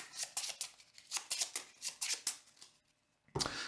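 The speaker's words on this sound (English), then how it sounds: "We'll shuffle this up." A deck of playing cards shuffled during a tabletop card game, with a run of quick, crisp riffling bursts in close succession, a brief pause, then a final louder riffle up close.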